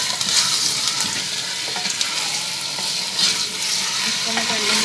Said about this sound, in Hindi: अब मैं इसमें ऐड करूंगी ये चिकन और इसका कलर चेंज होने तक मैं इसको पकाऊंगी।